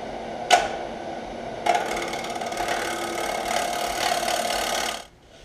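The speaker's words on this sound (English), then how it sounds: "So I'm just going to go ahead and scrape that out real quick." Woodturning tool scraping the inside of a bowl on a lathe: a couple of sharp contact bites, then a steady buzzing, rattling scrape for several seconds that stops abruptly.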